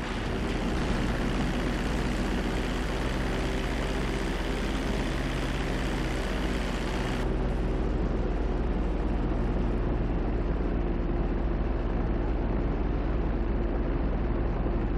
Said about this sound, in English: Bring the plane back in.